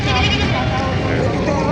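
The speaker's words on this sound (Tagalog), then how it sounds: "Madala mga kambing ngayon." Goats bleat at a busy livestock market, their cries mixed into a dense crowd of people talking close by.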